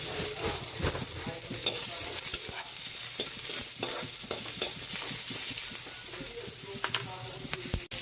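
Chopped onion added to garlic already sautéing in a pan for ginisang munggo, a dense continuous sizzle broken by repeated scraping strokes of a spoon against the pan.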